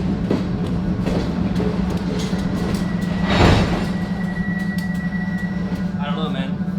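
An empty freight train rolls slowly through Mexico, giving a steady low rumble and hum with occasional metallic squeals and clanks, a passing louder surge midway, and faint voices in the background.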